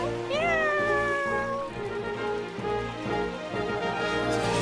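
Cartoon kitten meowing over a continuous music bed, with rising, sliding meows near the start and later faint mews blending into the melody.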